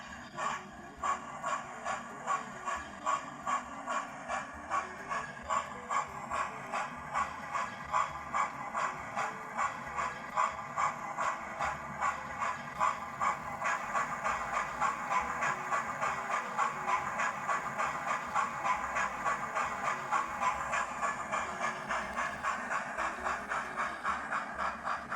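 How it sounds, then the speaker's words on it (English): Hornby A1 Tornado TTS model steam locomotive with a sound decoder, chuffing in a steady rhythmic beat that grows slightly fuller partway through, with a faint mechanical clatter underneath and no talking. "Let's increase the chuffs."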